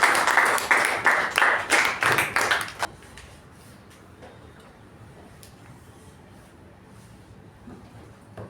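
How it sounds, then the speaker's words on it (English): A Toastmasters club audience claps for a speaker, a loud burst of rhythmic clapping for about three seconds that stops abruptly, leaving a quiet room with faint scattered taps. "please give a huge round of applause to Toastmaster Shivaprasad Sharma"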